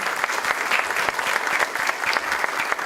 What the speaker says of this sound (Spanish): les pediría a todos un aplauso a los 4 expositores de este bloque